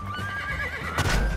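A horse neighs loudly in the video game Modern Warfare 2, a long wavering whinny heard up close over game noise, with some hoof clatter near the end.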